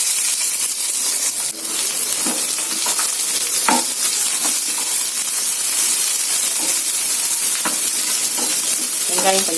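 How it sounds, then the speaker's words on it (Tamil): Chopped onions fry in a pan along with mustard seeds and broken black urad dal, giving a steady, loud sizzle that runs without a break. Spoon scrapes and stirring clicks recur throughout, and no one speaks. "நறுக்கி வச்ச வெங்காயத்தை போட்டுடலாம்."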